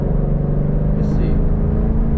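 Ford Mustang GT with a 10-speed transmission, driven at night, rumbles with a loud, steady engine drone heard from inside the car, with a brief hiss in the middle.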